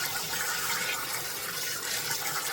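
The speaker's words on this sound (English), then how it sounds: "I took cold water, run it across it." Cold tap water runs steadily over rinsed, cooked potatoes in a strainer, a continuous close hiss and splash with no talking.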